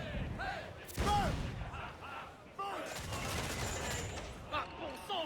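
Ship cannons booming in a naval video game battle, heavy blasts and rumbling volleys layered with shouting voices.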